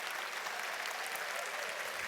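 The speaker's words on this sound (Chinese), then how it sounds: "真的需要给我们的 marketing 的一些同事一个掌声" An audience at a corporate presentation claps for the marketing team, a steady, even wash of many hands at moderate distance, sustained throughout without a break.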